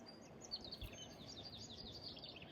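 Faint, high bird chirps repeat in a quick series by a lake, distant and thin over a soft ambient hush.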